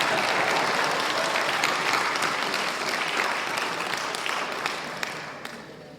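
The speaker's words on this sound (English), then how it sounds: "One more round of applause." Concert audience applause at a Christmas concert, a loud, full round of many hands clapping that holds steady for several seconds, then gradually fades as it trails off.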